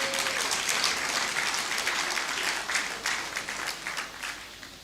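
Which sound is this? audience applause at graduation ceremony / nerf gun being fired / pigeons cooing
audience applause at graduation ceremony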